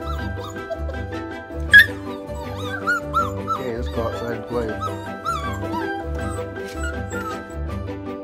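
Australian Shepherd puppies yip and whimper close by in a busy chorus of high squeaks and short barks, over a steady rhythmic thumping in the background.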